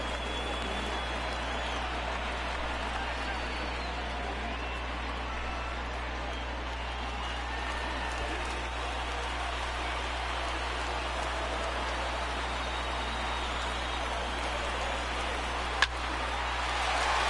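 Steady, wash-like crowd noise from a simulated Yankee Stadium in MLB The Show 19, a constant hiss-like roar with no distinct cheers, under a faint hum.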